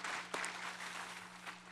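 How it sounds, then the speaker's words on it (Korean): Congregation applauding to welcome a family during a Sunday church service, a soft, even patter of clapping that fills the short moment at a moderate distance, with a steady low hum underneath. "박수로서 환영하겠습니다"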